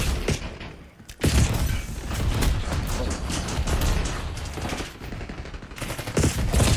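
Rapid automatic gunfire from a Black Ops 6 match rattles in dense, continuous bursts with explosive booms mixed in, loud and close throughout.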